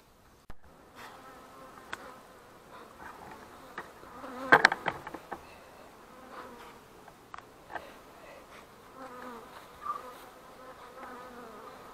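Honeybees buzz steadily around a wooden beehive with frames, a swarm settled in, making a soft, continuous drone with occasional louder passes of single bees flying close.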